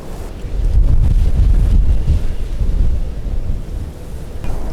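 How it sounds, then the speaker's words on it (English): Strong wind gusting across the Rio Grande river, roaring loud and close as it buffets the microphone in a steady low rumble, with no voices. "Look how the wind blows across the water."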